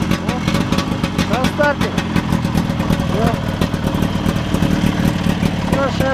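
A 1979 Buran snowmobile engine turns over and settles into a steady, fairly loud idle, with people talking over it throughout.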